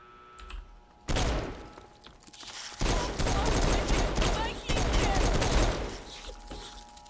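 Bursts of gunfire in Fallout 3 start abruptly after a quiet opening and come in loud, rapid volleys that sustain with brief gaps, fairly close.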